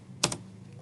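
A Telnet command typed on a computer keyboard, a quick burst of two or three close, crisp keystrokes followed by near silence.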